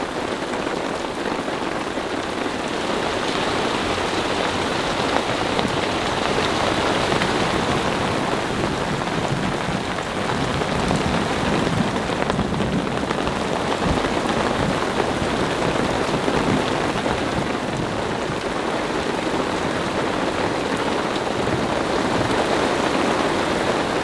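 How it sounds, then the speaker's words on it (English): Heavy rain pounds steadily on a camping truck in the high country during a thunderstorm, a dense, unbroken hiss of drops drumming on the surface for the whole stretch, loud and close with no voices. "it's now raining again, and the temperature has dropped significantly today."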